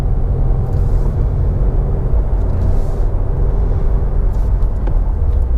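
A turbocharged car engine pulling hard under acceleration, heard from inside the cabin as a loud, continuous low rumble and drone with road noise, steady throughout.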